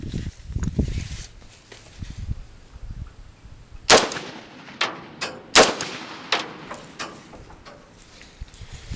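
An AK VEPR rifle fitted with an AK-74 muzzle brake fires a handful of loud, sharp, separated shots outdoors, each with a short ringing tail, after some faint birdsong at the start.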